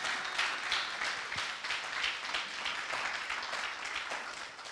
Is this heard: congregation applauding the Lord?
yes